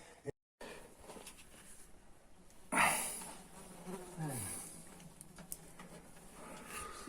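Flies buzz steadily around, a faint insect drone under outdoor ambience, with a sharp clack partway through and a low sliding hum after it.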